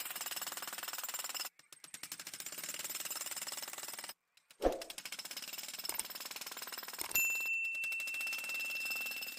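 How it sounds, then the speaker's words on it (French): A Milwaukee MX Fuel breaker hammer pounds through decades-old concrete for a French drain, a loud continuous rapid hammering close by, stopping briefly twice before resuming. "j'ai installé le briseur MX Fuel qui va rapidement venir à bout de cela"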